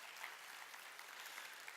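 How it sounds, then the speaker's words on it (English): Faint, steady applause from a lecture audience at a conference session, a continuous patter of many hands heard from a distance with no voices. "Round of applause for your team and your colleagues there if you got some of them."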